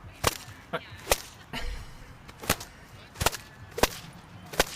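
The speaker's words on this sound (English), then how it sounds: "is turning this whip sound into a percussion track a crazy idea?" A cheap whip cracks sharply again and again in an irregular rhythm, seven or so loud snapping cracks close by with quiet gaps between them.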